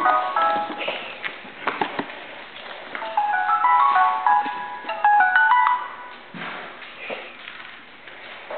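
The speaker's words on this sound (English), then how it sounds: "sorry, that's my phone." A mobile phone rings out with a melodic electronic ringtone, a bright repeating tune playing fairly close by alongside faint shuffling and handling sounds.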